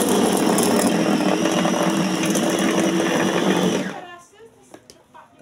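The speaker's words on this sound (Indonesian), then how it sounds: "Kita tuang, kita blender dulu ini ya" A blender chopping chicken meat roars loudly and steadily for about four seconds, then cuts off, leaving quieter clatter and handling noises.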